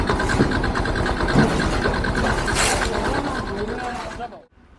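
A motorcycle engine rumbles close by as a touring trip gets underway, revving steadily with a throaty drone, a brief voice mixed in, before the sound cuts off abruptly near the end.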